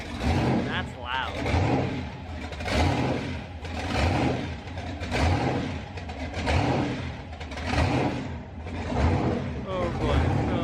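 On first start, a twin-turbo LS V8 in an S10 truck struggles to idle, surging and loping unevenly in loud rhythmic swells up close, with people talking over it.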